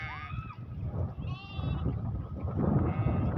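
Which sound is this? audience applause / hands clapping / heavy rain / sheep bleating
sheep bleating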